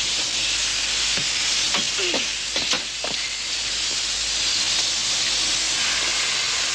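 A steam train gives off a loud, continuous hiss of escaping steam, with a few faint clanks and brief voices in the background.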